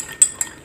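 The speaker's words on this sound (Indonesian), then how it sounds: "Oke, kita aduk sampai larut." A spoon stirring a spoonful of honey into a warm ginger and kencur decoction, giving two or three light clinks against the glass in a quick, quiet sequence with no talking.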